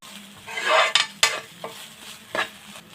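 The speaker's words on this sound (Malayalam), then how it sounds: "ഈ സോസുകളൂടെ ചേർത്ത് നമുക്ക് നന്നായിട്ടൊന്ന് മിക്സ് ചെയ്ത് കൊടുക്കാം" Tomato sauce is stirred into semiya biryani in a pan, giving a few scraping spoon strokes and clinks against the metal over a soft sizzle, close and alone.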